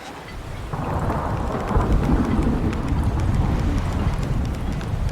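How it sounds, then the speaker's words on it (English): A thunderstorm rages in a survival video game, loud steady rain hissing over deep rolling thunder that builds and sustains across the whole stretch, with no talking. "There's a storm a-brewing."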